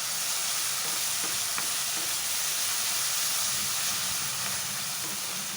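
Steady, close sizzling of minced mutton frying in a pan with coriander and mint, a continuous hiss with faint occasional stirring clinks, no talking.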